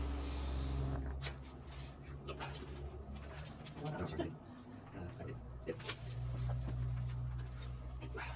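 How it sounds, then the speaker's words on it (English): A dog whimpers and pants softly indoors late at night during a concrete-to-floorboard renovation, with faint background noise and murmured voices around it. "Yeah, the dog wants to go to bed."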